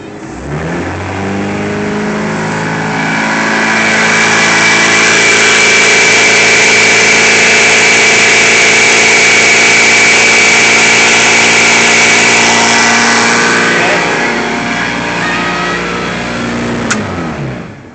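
A boat engine runs steadily at close range, rising in pitch as it is throttled up, holding a loud sustained drone with harmonic whine, then easing back down near the end; no talking.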